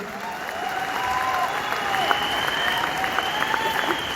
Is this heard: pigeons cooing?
no